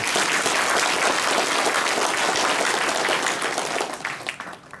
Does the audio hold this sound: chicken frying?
no